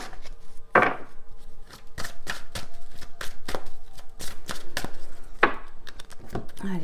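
A deck of oracle cards is shuffled by hand in quick, irregular bursts of crisp slaps and riffles, close and moderately loud, with a few brief pauses between handfuls.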